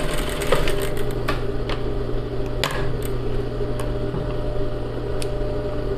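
A sewing machine runs steadily at close range while stitching a seam on a sleeveless American-armhole blouse, giving a continuous mechanical hum with a few sharp clicks and thumps along the way.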